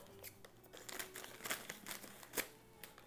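A small plastic bag of crumbly craft material is snipped open with scissors, a run of faint, close crinkles and cutting clicks over quiet room tone.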